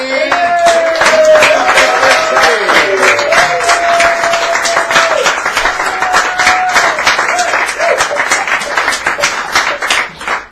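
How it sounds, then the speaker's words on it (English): Open mic audience at Sacred Grounds Cafe in San Francisco applauding host Teddy: loud, sustained clapping with crisp individual claps, mixed with cheering and voices that whoop and speak through it. "Everybody, let's give a hand to Teddy!"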